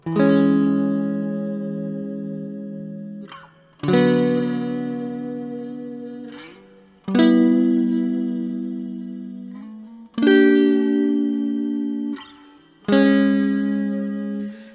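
Five sustained Fender Squier Classic Vibe Bass VI notes, each struck, then wavering and dipping in pitch as a Jazzmaster or Jaguar type tremolo arm bends them, with short gaps between.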